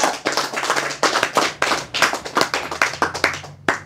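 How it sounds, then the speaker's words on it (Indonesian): Audience clapping at a religious lecture, a burst of many hands striking in quick uneven rhythm, fairly close and loud, fading and resurging across the seconds. "Tepuk tangan dulu dong."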